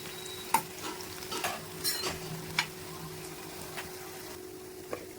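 Garlic, cardamom, cloves, coriander seeds, cinnamon and mace frying in a pan for chicken gongura, a soft sizzle broken by several sharp scrapes and taps of a stirring spoon.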